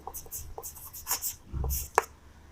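Short scratchy strokes of an equation being written on a board come close and brief, with uneven rubbing sounds and a sharp tap near the end.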